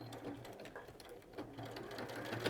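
A Juki sewing machine running a short locking stitch while attaching fabric at the edge of a D-ring, a quiet, rapid mechanical whirr of needle strokes heard close and alone.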